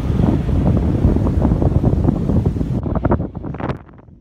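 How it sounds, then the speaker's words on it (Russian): Strong wind gusting through a steppe village in Kazakhstan, a loud, continuous roar buffeting the microphone, easing slightly near the end. "В любой момент может подняться сильный ветер, и село погружается в облако пыли."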